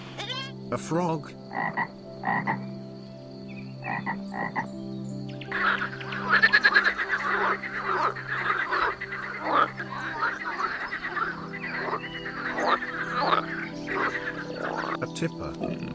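A frog croaks in a series of short, rough pulses, close and clear, repeating irregularly through the stretch with a steady low hum beneath.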